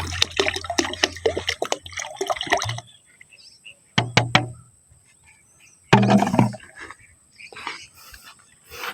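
A Coca-Cola fertilizer mix for eggplants being stirred: bursts of close liquid sloshing and splashing, separated by short quiet pauses.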